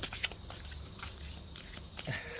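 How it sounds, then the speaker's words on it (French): Cicadas chirping outdoors, a dense, steady high-pitched buzz that runs unbroken throughout, loud and continuous, with no one speaking. "Un petit coup cigale pour vous."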